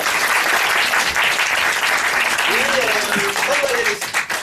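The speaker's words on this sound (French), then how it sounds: "On applaudit." Applause from an audience at a French improv comedy show fills the room, thick and steady, while a performer's voice rises briefly over the clapping before it thins out.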